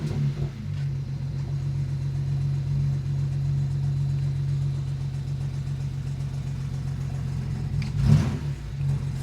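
A BMW 335i engine running with a cylinder 3 misfire, a steady low idle hum with an uneven, stumbling pulse, then a brief louder rev near the end.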